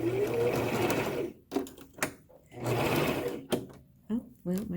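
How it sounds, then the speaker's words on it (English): A sewing machine stitching a fabric facemask runs in two loud, sustained bursts with a rising whir, broken by pauses with clicks and a person talking. "I'm going to go ahead and sew about 1/4 of an inch down, and then back stitch it."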